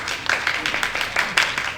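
An audience at a theatre performance breaks into a short burst of clapping, close and fairly loud, with dense irregular hand claps over the whole moment.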